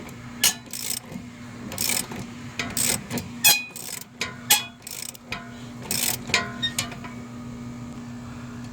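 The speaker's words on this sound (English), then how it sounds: "we got our wrench over here, 13/16 in this case, and I'm snugging this up" Ratcheting 13/16 wrench snugging up a self-locking grade 10.9 rear wheel bearing bolt on a 2013 Chevrolet Malibu, giving a close series of irregular metallic clicks and scrapes over a steady background hum, fading out toward the end.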